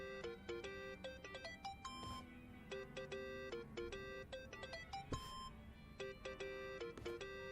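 A mobile phone ringtone inside the video game Yakuza: Like a Dragon plays a bright, repeating electronic melody of quick beeping notes, looping steadily over several seconds with no one speaking.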